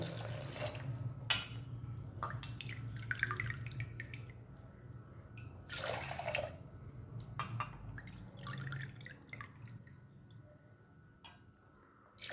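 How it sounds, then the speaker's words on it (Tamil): Water trickles and splashes steadily into a cooking pot, with a low background hum and a few clinks of metal. "இப்போ 3 கப் தண்ணி."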